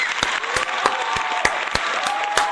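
A small group claps in a steady, sparse rhythm of sharp individual claps, moderately loud with no voices over it.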